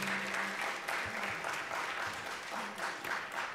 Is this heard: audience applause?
yes